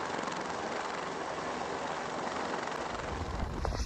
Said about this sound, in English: taking water from a swimming pool in a helicopter